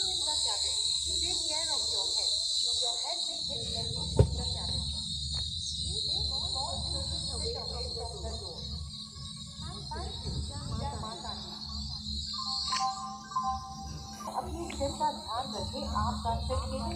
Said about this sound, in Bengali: দেখো বন্ধুরা, মানে ঝিঝি পোকার ডাক